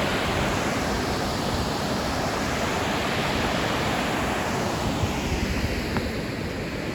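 A cascading waterfall in snowy Wyoming, near the Old Faithful area where the water never freezes, roars as a steady, loud, broad rush of water, close by with no talk over it.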